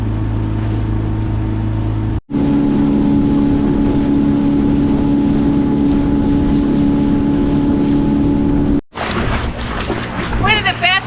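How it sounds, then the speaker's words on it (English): Rented do-it-yourself skiff with an 8-horsepower outboard cruising on Two Medicine Lake in Glacier National Park, a steady close motor drone with wind noise, cut briefly twice, ending with a voice speaking over the engine. "On 2 Medicine Lake, it was a do-it-yourself skiff with an 8-horsepower engine."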